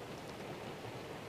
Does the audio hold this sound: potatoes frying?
no